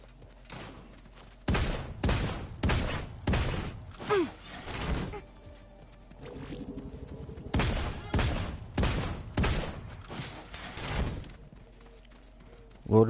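Bursts of rapid gunfire in the battle royale game Realm Royale, several volleys spread across the stretch with brief pauses between them, loud and close.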